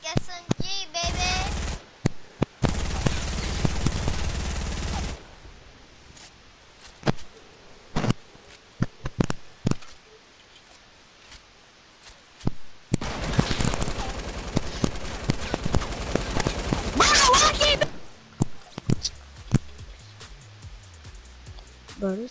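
Bursts of rapid compact SMG gunfire ring out in a video game, two long sustained volleys with scattered single shots between, loud and close, while players talk over it.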